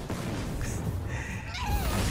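Cats meowing in a Hearthstone card game match, a couple of short, high-pitched in-game cat calls over a steady background of game music and effects.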